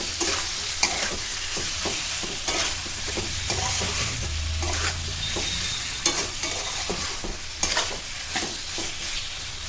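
Drumstick pickle with tamarind and sugar being stirred in a pan over a low flame, a soft sizzle under steady, regular scraping strokes of the spoon, close and moderately quiet, no voices.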